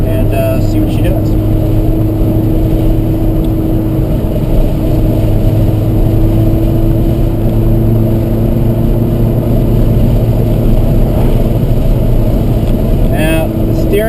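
A lowered Abarth car driving on the road, with a loud, steady engine drone and road noise continuing throughout without letup.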